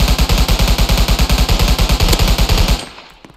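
Rapid automatic gunfire rings out in a gun-game style video game, a fast even burst of loud close shots lasting nearly three seconds before cutting off into a brief fading tail.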